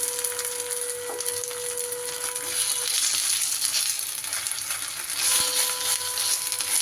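Food sizzles steadily in oil in a covered pan over lowered gas as a piece is gently flipped, a close, even frying hiss with a brief soft knock, no talking.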